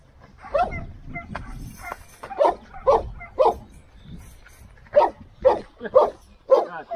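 A Kangal shepherd dog barks in a loose series of about eight sharp, medium-loud barks with uneven gaps and a low background murmur.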